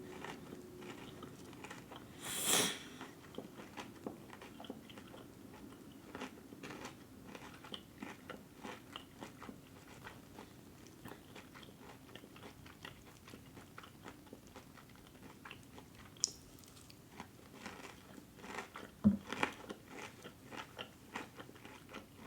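Biting and chewing a Wingstop lemon pepper boneless wing, close and quiet with soft wet mastication, a few sharper bites and crunches scattered through a long stretch, no talking.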